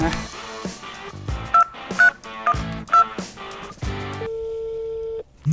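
A telephone rings with a rhythmic ringtone of bright beeping tones in quick bursts, ending in one long held tone, loud and close with no talking.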